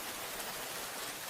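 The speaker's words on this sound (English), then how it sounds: "The rain continues to fall" Steady rain at a hut on a rainy night, a dense, even patter that fills the whole stretch without any talking.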